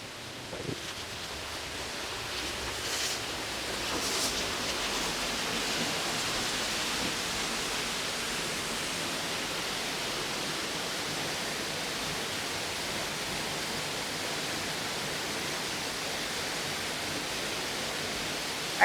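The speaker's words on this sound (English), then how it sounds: "There's a really cool water feature." Loud, steady rush of falling water from a water feature at Epcot's Canada Pavilion, a broad continuous roar that swells in the first few seconds and then holds evenly.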